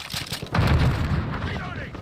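A grenade blast in Call of Duty Modern Warfare lands as one loud, deep boom partway through, its low rumble rolling on under background battle noise and game chatter.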